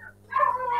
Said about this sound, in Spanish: Están aullando mis perros.